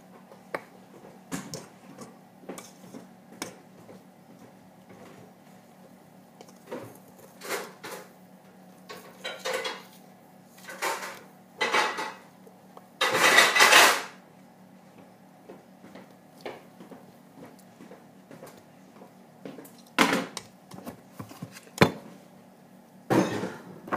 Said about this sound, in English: You gotta keep mixing it till it comes off.